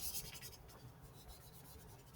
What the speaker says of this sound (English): So I'm going to erase mine.